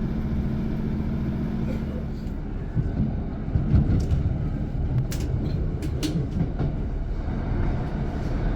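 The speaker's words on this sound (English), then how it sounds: "Welcome on board this Northern Train" A Northern train on the Tees Valley Line toward Bishop Auckland rumbles steadily from inside the carriage, with continuous low wheel and engine noise, occasional rattles and clicks.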